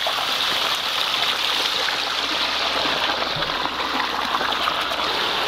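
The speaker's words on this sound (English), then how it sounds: "Walk up the creek." Water runs steadily down a built creek water feature beside a pond, a close, continuous babbling rush with no pauses.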